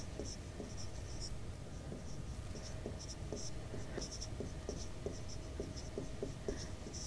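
A pen scratching across paper while working a science problem in a class lesson, short quick strokes in an irregular steady rhythm, close but faint.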